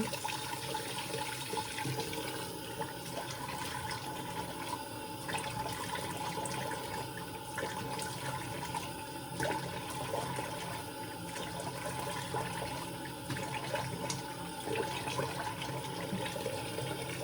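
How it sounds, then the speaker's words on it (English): Warm water runs steadily from a bathroom tap into a sink during an at-home facial, a continuous broadband rush at close range that holds even for the whole stretch with no talking. "I like to get a little warm water here."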